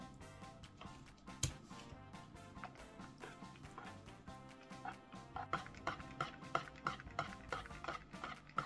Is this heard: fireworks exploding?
no